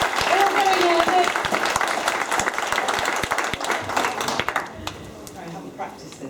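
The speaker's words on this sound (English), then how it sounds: "Can you give her a round of applause as well" An audience claps for a nervous woman about to pitch her new business at a live event, with dense applause strongest early and fading out near the end, and voices mixed into the clapping.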